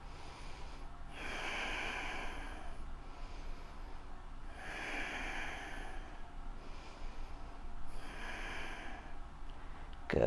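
Slow, deep breaths during a yoga pose, with three long airy exhales spaced evenly apart, each rising and fading softly over a quiet background.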